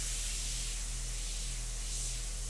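An airbrush spraying India ink onto paper gives a faint, steady, airy hiss that holds evenly without pause, close by and alone.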